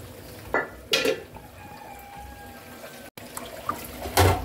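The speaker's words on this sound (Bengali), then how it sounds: "অনেক অনেক থালাবাটি এখানে জমা হয়ে গেছে, যেগুলো পরিষ্কার করতে হবে।" Dishes washed by hand under a running kitchen tap, bursts of splashing water with clinks of plates and bowls and a brief break before more rinsing, close and moderately loud.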